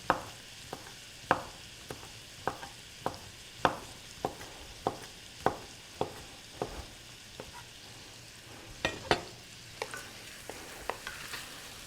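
Shrimp cooking in a pan on a kitchen stove give a soft, steady sizzle, broken by a regular series of sharp clicks and taps from stirring, all fairly quiet with no talk.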